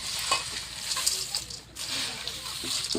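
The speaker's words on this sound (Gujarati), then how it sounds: "હવે એકદમ સારી રીતે આને આપણે ભેળવી લઈશું" Chevdo snack mixture being stirred and tossed in a pan in a village kitchen, a steady dry rustling and scraping with faint sizzling throughout, brief soft knocks of the spoon, no talk.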